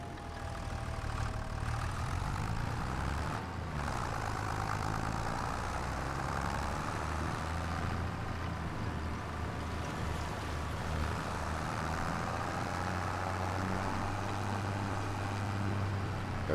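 A tractor engine idles in Farming Simulator 25, a steady low, rumbling drone that holds at an even level throughout without a break.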